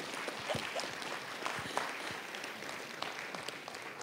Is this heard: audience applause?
yes